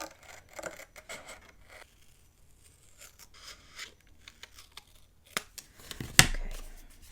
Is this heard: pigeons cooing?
no